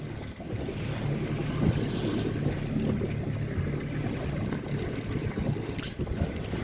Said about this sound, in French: il y a un petit peu de vent donc c'est cool